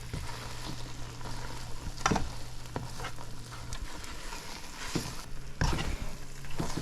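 A thick Guyanese sugar cake mixture bubbles and sizzles softly in a pot, with faint stirring scrapes and occasional sharper clicks against a quiet, steady background.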